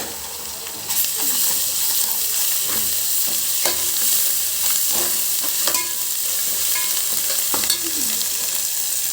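Chicken sizzles steadily in a hot pan after ginger-garlic paste goes in for a Telugu chicken iguru, with repeated scraping strokes of a spoon stirring through the continuous frying hiss.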